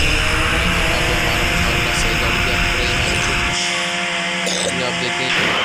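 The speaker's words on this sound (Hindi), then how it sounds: "3 1 2 3 के साथ को गाड़ी स्टार्ट हो जाती है हमारी" A race car's engine roars in a car stunt racing video game, a loud, steady, buzzing drone. It drops away briefly partway through, then surges back.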